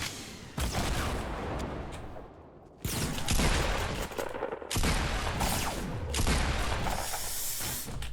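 Shotgun fire in the video game Fortnite comes as loud, dense bursts of blasting and hissing noise. Two short sudden breaks split an otherwise continuous barrage.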